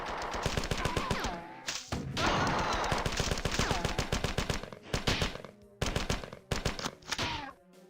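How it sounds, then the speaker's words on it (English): Rapid gunfire from the classic Marathon video game crackles in dense bursts, near and loud, with brief gaps between volleys and a voice faintly underneath. "Are you shooting me?"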